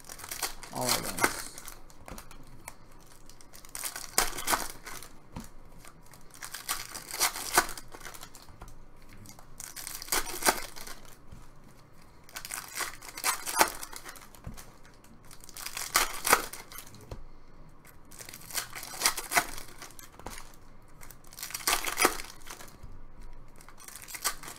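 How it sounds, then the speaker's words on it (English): Panini Anthology hockey trading card packs ripped open one after another during a multi-box break, with loud crinkling foil tears repeating at steady intervals and a low background hum between them. "we'll just rip open all the packs"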